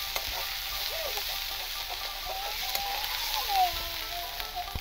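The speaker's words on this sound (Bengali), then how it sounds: "আর নেবো নুন স্বাদ মতো। দিয়ে ভালো করে নেড়ে চেড়ে নেবো।" Spices with turmeric and salt being stirred in a frying pan for a fish curry, a continuous soft sizzle under light scraping of a spoon, with a person talking faintly in the background.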